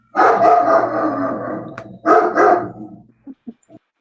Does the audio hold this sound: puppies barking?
yes